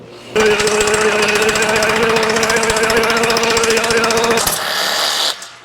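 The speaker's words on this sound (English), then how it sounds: "so I'm gonna cut here and take all that off" A power tool rapidly chatters while cutting the exhaust pipe on a 1999 Ford F250, a loud, steady buzzing rattle that runs for about four seconds, shifts pitch briefly, then stops abruptly.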